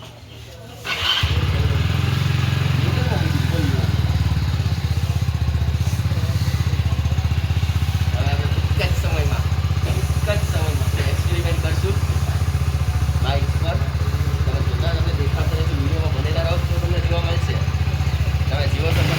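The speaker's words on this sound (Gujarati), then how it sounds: "બાઇક ગરમ કરવા મૂકી દે ને હારો," A motorcycle idles to warm up after starting, a loud, steady low engine rumble that runs throughout while voices talk over it.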